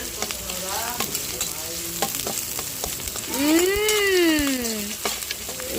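Ginger-garlic paste frying in a pan, a busy close sizzle with stirring scrapes and a rising and falling tonal whine partway through, no talk.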